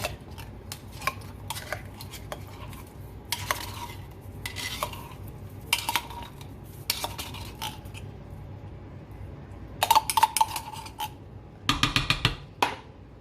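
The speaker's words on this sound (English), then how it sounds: "Then we'll go in the tomato paste, which is easier done with a little knife or something like that." A little knife scrapes thick tomato paste out of a metal can, a run of short rasping scrapes and metallic clicks, close and fairly quiet, with a few sharper clinks of the blade near the end.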